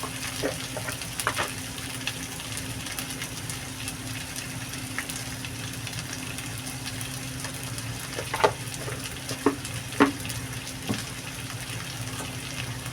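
Turmeric being stirred into a frying pan of rohu fish and taro curry: a steady, close sizzle of frying with a low hum, broken by a few sharp scrapes and clicks of the spoon toward the end.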